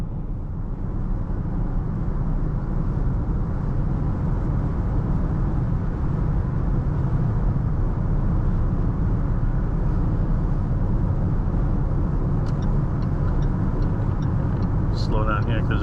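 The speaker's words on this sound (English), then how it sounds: "So comfortably cruising at 80 miles an hour. It is dead silent in the cabin." Steady cabin noise in a Jaguar E-Pace cruising at 80 mph on a highway, a continuous low road and tire rumble with faint wind, unbroken throughout, with a few faint chimes near the end.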